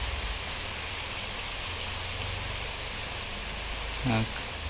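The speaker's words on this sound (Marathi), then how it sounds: "पावसाचं आगमन झालेलं आहे लेट पण थेट कधी पण पडतो पाऊस" Steady, soft rain hiss fills the background with a faint broadband wash, and a brief low thump near the end.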